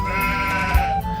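A sheep bleats in one sustained, wavering call with rich harmonics, loud and close, steady across about a second with a brief low thump near the end.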